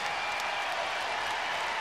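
A basketball arena crowd at Freedom Hall in Louisville roars and applauds in a steady, dense wash of noise during a home-team run, with no distinct voices standing out.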